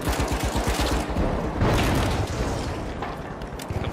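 Rapid gunfire in the video game The Finals, a dense burst of repeated shots followed by booming explosive impacts, loud and continuous throughout.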